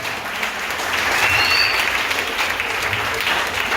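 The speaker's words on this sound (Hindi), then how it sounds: "तालियां हो जाए।" An audience at a Hindi-language sermon applauds with a steady wash of clapping that builds slightly and holds at a moderate level.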